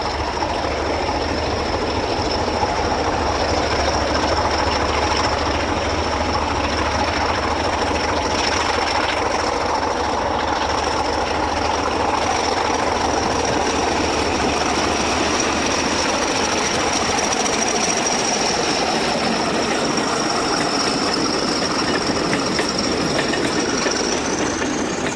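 A Portuguese train runs on the line north from Ermidas, a steady rumble of wheels and rail clatter with a faint high squeal, continuous and fairly close with no voices.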